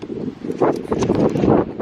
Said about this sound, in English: apologies for the wind as well, it's a little bit windy